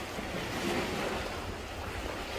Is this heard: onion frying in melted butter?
no